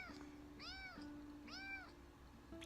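A cat meows twice in a played video, two drawn-out rising-and-falling calls about half a second apart, fairly clear over a faint steady hum, with no talking.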